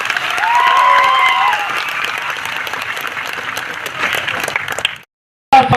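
A crowd applauding loudly at a village honouring ceremony, with fast, dense clapping that stays steady for several seconds, then cuts off abruptly into silence before a short burst returns.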